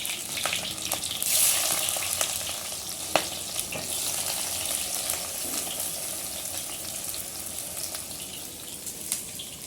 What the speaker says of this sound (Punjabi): ਹੁਣ ਆਪਾਂ ਇਹਨਾਂ ਨੂੰ ਆਪਣੇ ਕਰੇਲਿਆਂ ਨੂੰ ਵਿੱਚ ਪਾ ਦਿੰਦੇ ਆ ਫਰਾਈ ਹੋਣ ਲਈ